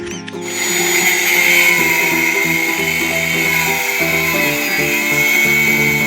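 A power grinder runs steadily and loudly during construction work, a sustained whine with shifting tones under the motor, with no talk over it.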